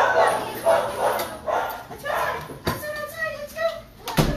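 A dog gives a series of short, moderately loud barks and whimpery yips, close by, with a sharp knock partway through.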